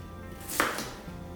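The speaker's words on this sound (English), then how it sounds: "So I'm just gonna rough chop it. I'm gonna cut this into thirds." A knife rough-chopping mirepoix vegetables for stock, one crisp close chop against a board in a quiet kitchen.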